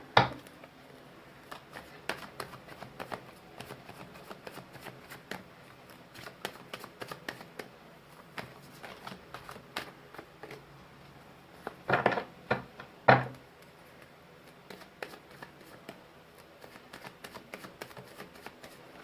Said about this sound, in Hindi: दो कार्ड्स और निकालेंगे।